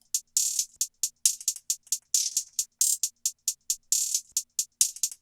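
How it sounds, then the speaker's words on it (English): Layered trap-beat hi-hats with rolls from an OZ kit, crisp and bright, ticking in quick steady patterns with faster stuttering bursts and short gaps, loud and alone with no voices. "All the hi-hats together now sound like this."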